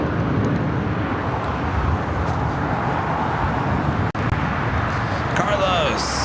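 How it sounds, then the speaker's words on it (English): An Airbus A328 departing runway 25 left at LAX, heard as a continuous broad jet roar with wind noise and someone talking over it. "This A328 taking off to Las Vegas."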